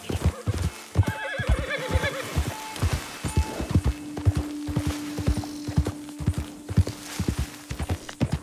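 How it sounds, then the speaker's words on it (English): A horse in the Red Dead Redemption 2 video game whinnies in a long, close, wavering call while its hooves clip-clop in a steady walking rhythm throughout, loud and unaccompanied by talk. "I want to hitch the horse."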